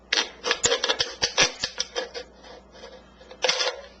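Scissors cutting through a thin aluminium soft drink can, giving a rapid series of crisp metallic snips and crunches, close and fairly loud, with a short pause before a final burst.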